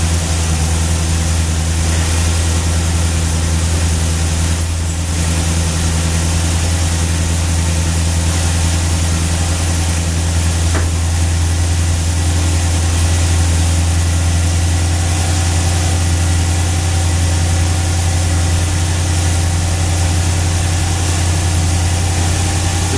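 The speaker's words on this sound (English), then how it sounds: "It's on fast idle, about 1100 RPM, and it will speed up a little bit as the engine warms up." An engine fitted with a Street Demon 625 carburetor runs on fast idle at about 1100 RPM, a steady low rumbling drone with constant vibration, close and loud throughout with no talk.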